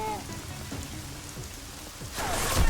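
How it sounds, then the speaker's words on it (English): Steady rain patters across surfaces in the video game Deus Ex: Mankind Divided, growing louder and denser near the end. "Enough rain to drown a duck."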